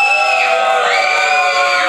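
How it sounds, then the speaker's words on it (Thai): A crowd at a Muay Thai fight bout erupts in cheering for the fighter Mr. Fight, a loud, brief burst of overlapping shouts and high whoops. "ขอเสียงกองเชียร์มิสเตอร์ไฟท์หน่อยครับ"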